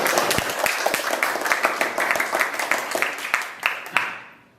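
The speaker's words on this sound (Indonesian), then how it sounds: "Aplaus dulu untuk kita." Dense applause from a class audience fills the room at close range with steady overlapping claps, tapering off toward the end.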